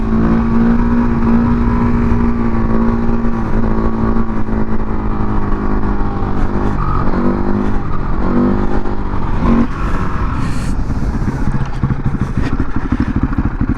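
Husqvarna 510 SMR supermoto engine roaring loud and close while riding on street tires, continuous high revs with rises and dips in pitch as the throttle works.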